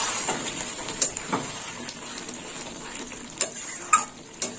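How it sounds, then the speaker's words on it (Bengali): Potato, ivy gourd and egg curry stirred in a pan, a soft continuous sizzle broken by several sharp clicks and scrapes of the spoon against the pan, especially toward the end, with no one speaking. "আর একটু নেড়ে চেড়ে নিই।"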